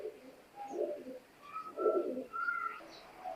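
Teddy 128 pigeons coo softly nearby in low, throaty, rolling phrases, a few overlapping calls in a quiet setting with faint chirps.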